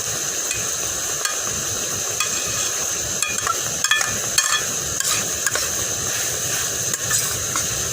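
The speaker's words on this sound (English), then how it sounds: "So it's basically stir frying, you know." Steady sizzling of beef liver stir-frying in a hot pan with occasional clicks and scrapes of a utensil stirring, continuous and close.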